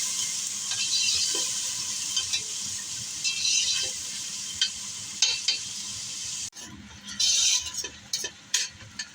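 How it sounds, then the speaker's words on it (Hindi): Spice masala frying with onions and tomato in a pot for beef pulao, a continuous sizzle and hiss punctuated by repeated scraping stirs of a spoon against the pan, close and fairly loud. "मसाले को अच्छी तरह भून लेते हैं।"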